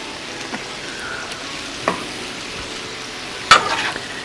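Steak and shrimp stir fry with sesame teriyaki sauce on a Blackstone griddle: a soft steady sizzle with occasional scraping and tossing clatters, one louder clank near the end, no talk.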